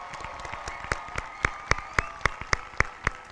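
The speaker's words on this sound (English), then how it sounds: "Can I please have a round of applause for the class of 2020?" Rhythmic clapping fills the air at a graduation commencement for the class of 2020, steady evenly spaced claps at moderate volume with a faint crowd murmur behind them.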